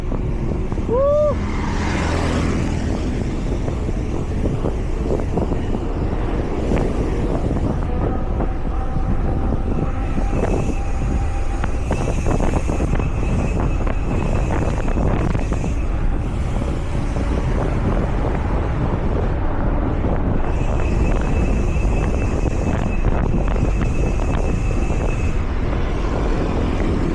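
Wind roars and buffets the microphone as a bicycle coasts downhill along a tree-lined road, a loud, constant rushing that fills the whole stretch.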